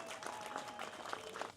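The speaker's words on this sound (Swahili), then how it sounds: "Nalipongeza sana jeshi la polisi, tuwapigie makofi mengi sana" A small indoor crowd applauds the police with quick, scattered hand claps, faint and brief, rising in a few louder bursts.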